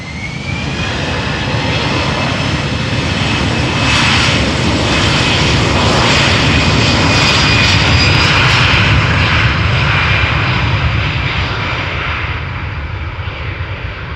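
An Aer Lingus Airbus A320 takes off at Amsterdam. A loud, sustained jet engine roar with a faint whining tone peaks in the middle and then eases slightly as the aircraft climbs and turns away, with no talk.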